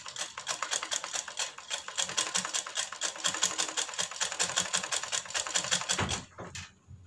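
An electric sewing machine stitches a baby girl's hanky-cut frock with a steady, fast mechanical whirr and clatter for about six seconds. It then stops abruptly, leaving a brief quiet tail.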